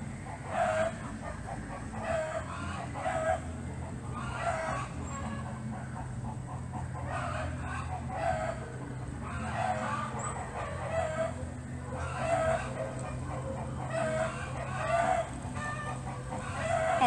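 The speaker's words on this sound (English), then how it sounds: "Listening to the chickens have a party in the background." Chickens cluck steadily nearby while a rooster crows repeatedly at regular intervals, under a constant low background hum.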